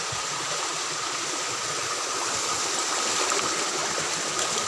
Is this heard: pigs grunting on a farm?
no